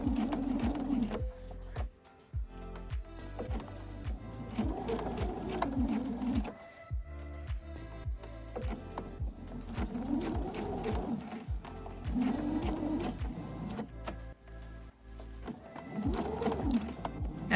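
A sewing machine stitches bias tape in steady runs of rapid mechanical whirring, pausing briefly between passes; the sound is close and fairly loud, with no talking over it.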